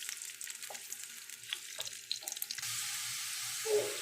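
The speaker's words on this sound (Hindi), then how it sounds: "अब इसमें मैं प्याज ऐड कर दूँगी और इसको हल्का सा ब्राउन करेंगे" Chopped onions dropped into hot oil in a home kitchen for kadhi pakora, sizzling and frying with a steady hiss, light stirring clatter and a brief running-water sound, close by with no talk.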